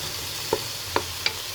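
Tilapia and other ingredients are stirred in a pan for ginataang tilapia with pechay, giving three short, light scrapes spaced about half a second apart over a faint sizzle, with no talking.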